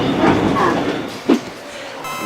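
A New York subway train rumbles along the rails with a roaring, rushing noise, a brief loud clunk partway through and a faint tone near the end.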